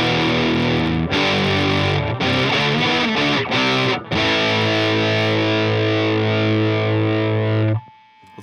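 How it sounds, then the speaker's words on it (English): An electric guitar plays through a DOD Boneshaker distortion pedal, giving loud, heavily distorted chords with a few short breaks before a long sustained chord that cuts off abruptly, with no voices. "Very nice distortion tone."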